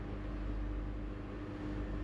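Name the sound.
truck engine starting after jump start, sounding worn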